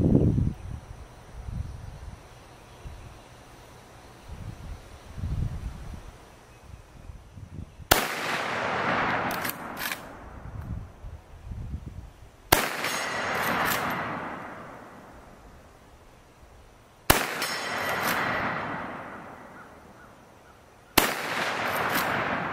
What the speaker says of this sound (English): let's see if I can actually ring that steel